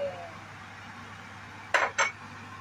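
Two quick metallic scrapes of a utensil against a pan while spring onion is stirred into stir-fried eggplant in chilli sauce, set against a quiet kitchen hum.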